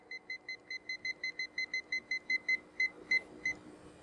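Heat press timer sounding a steady run of about fifteen short, evenly spaced electronic beeps, clear and close with no talking.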